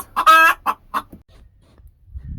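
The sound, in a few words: chickens clucking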